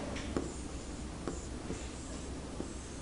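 Faint marker or chalk strokes on a classroom board as numbers are written: a few soft, sparse taps and scratches over a steady room hiss.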